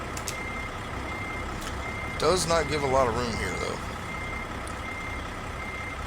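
A truck's reversing alarm beeps steadily as it backs up in American Truck Simulator, running under engine hum while someone talks briefly in the middle.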